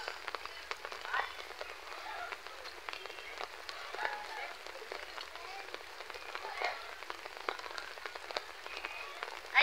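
Steady rain pattering on surfaces outdoors in a garden plot with young vegetables, a dense hiss of drops with scattered sharper taps, moderate and continuous.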